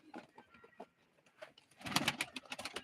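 Pigeons at a live pigeon auction coo in soft, repeated low calls, joined near the end by a louder burst of fluttering or busier bird noise close by.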